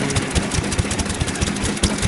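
An early Showa-era Kubota type F stationary farm engine, an early model with a Bosch magneto and no impulse coupling, idles at low revs outdoors, its loud, steady chugging beat thumping evenly throughout.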